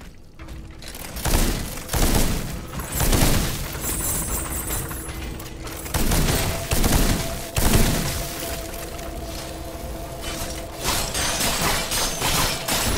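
Gunfire in the Steelrising video game during a boss fight rings out as a series of loud, repeated blasts and mechanical clanks spaced across the stretch, with ringing metallic tones between shots.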